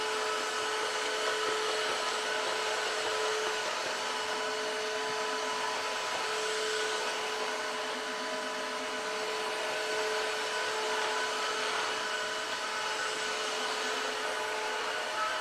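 A Tineco Floor ONE S3 cordless floor cleaner runs on a hardwood floor, giving a loud, steady, high whine with a rushing suction hiss that holds constant throughout with no talking.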